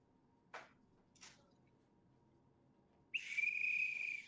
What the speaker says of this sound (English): I forgot this is the bad whistle.